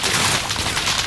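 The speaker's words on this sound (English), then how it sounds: "Someone's firing on us" A dense burst of rapid gunfire in the video game Call of Duty: Modern Warfare, loud and continuous for about a second with no talking over it.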